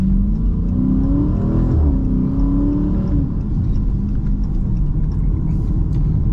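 A Chrysler 300 SRT drives on a mountain road in the Gold Coast hinterland, its engine and exhaust giving a loud, continuous low rumble that rises and falls through revs and gear changes, with no voices.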